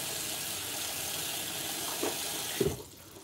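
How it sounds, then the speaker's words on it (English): Water streams steadily into a pot of potatoes, a continuous close splashing pour that ends with a couple of louder splashes as it stops. "So I'm gonna put my water in there."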